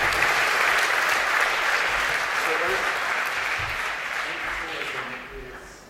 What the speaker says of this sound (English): it'd be great if we could express that sentiment with a round of applause